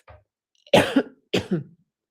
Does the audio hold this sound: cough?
yes